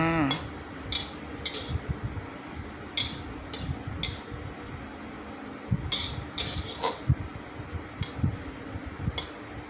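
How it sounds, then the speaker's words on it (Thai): Holy basil leaves and oyster mushrooms are stir-fried in a pan in a home kitchen, with a steady sizzle under repeated metallic scrapes and clinks of a spatula against the pan, irregular and fairly close. "ผัดให้ทั่ว"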